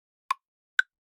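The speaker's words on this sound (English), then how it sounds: "So if we turn our metronome on up here to the left," Short, sharp metronome clicks from music production software sound about half a second apart in an even rhythm, crisp and isolated against silence.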